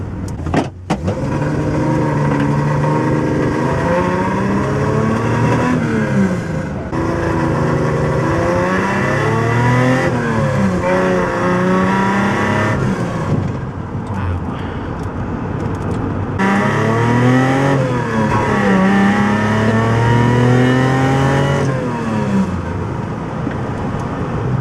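A restored Datsun 240Z drives and accelerates loudly from inside, its engine note rising and falling through several gear changes with steady road and wind noise underneath.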